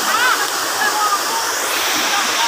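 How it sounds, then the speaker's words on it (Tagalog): Caracha Falls roars as a constant, dense rush of falling water, loud and close, with a voice faintly heard over the steady noise. "Nandito po ako sa Caracha Falls."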